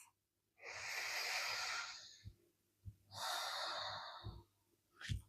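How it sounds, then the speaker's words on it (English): A person breathes deeply and slowly during a yoga session: two long, close breaths, each a full inhale flowing into an exhale, with a quick sharp sniff at the end. "Take a breath."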